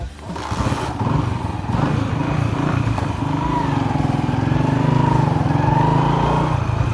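A Honda CG125 motorcycle ridden at night through narrow city streets, its small single-cylinder engine droning close and steady, pitch rising and settling as it shifts and cruises, with a brief louder burst near the start.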